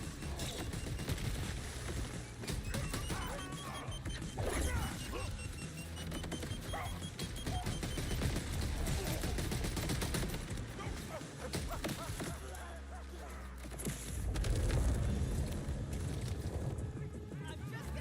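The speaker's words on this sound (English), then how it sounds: "Well, this has an airstrike on it." Airstrike explosions and rapid weapon fire in Borderlands 4 combat, a dense, continuous barrage of loud blasts and bursts with swelling impacts near the end.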